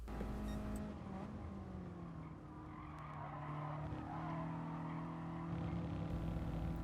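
A Toyota Sprinter racing car in Gran Turismo Sport accelerates out of a corner at Fuji Speedway Short, engine note rising steadily with tire squeal, loud and close throughout.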